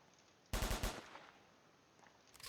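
A quick burst of about five rapid gunshots rings out in a Roblox ERLC police game while shooting out car tires, loud and close, followed by a quiet stretch with a couple of faint distant pops.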